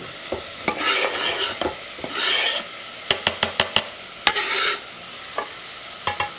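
Granny Smith apple and fresh ginger stirred in a pot with a spoon, a run of sharp scraping clicks and short rubbing strokes, close and fairly loud, with faint sizzling between them and no talk.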